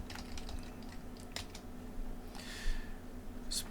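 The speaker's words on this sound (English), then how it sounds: "Pressing delete on our keyboard" Keys tapped on a computer keyboard in scattered, quiet clicks with short pauses between them, close and alone without talk.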